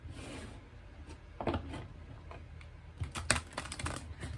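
Cards riffle and slide in short bursts, with soft papery rubbing and a quick flurry of shuffling near the end.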